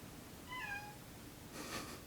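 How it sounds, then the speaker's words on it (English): A cat meows once, faint and somewhat distant, followed by a brief soft rustle; otherwise a quiet room. "You can hear my cat in the hallway."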